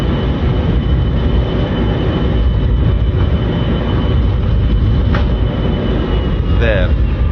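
Boeing 727-200 thrust reversers in a flight simulator game, heard as a loud, steady jet roar that fills the whole stretch without easing.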